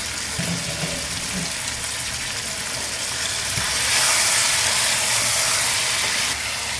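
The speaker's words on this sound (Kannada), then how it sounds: "ಇದು 5 ನಿಮಿಷ ಆದಮೇಲೆ ಮೀಡಿಯಮ್ ಉರಿನಲ್ಲಿ ಕುದೀಲಿ." Punjabi chicken masala cooks in a covered pan on a medium flame with a steady, dense sizzle and hiss that swells slightly partway through, close up and alone.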